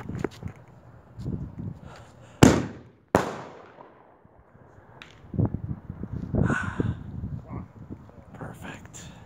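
Fireworks set off outdoors on the Fourth of July give two sharp, loud bangs a moment apart, followed by crackling pops and scattered bursts, with people talking and calling out around them.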